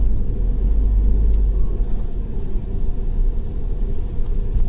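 A Tata Harrier SUV makes a U-turn on a road, with a steady low engine and road rumble heard from inside the cabin throughout and no talking.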